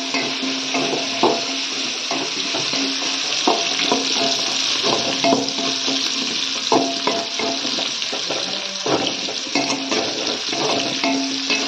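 Green chilies stir-fried in a pan for a rock fish curry, with a steady close sizzle of hot oil and repeated scraping strokes of the spoon against the pan, no voices.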